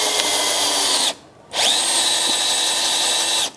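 A power drill bores a pilot hole into a wooden eave with a loud, close whine that runs, cuts out briefly for about half a second, then resumes steadily.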